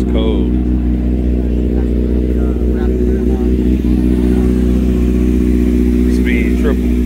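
A Triumph Speed Triple motorcycle engine idles steadily and loud at a bike night, its deep, even rumble running throughout with a few slight revs, while people's voices mingle faintly in the crowd.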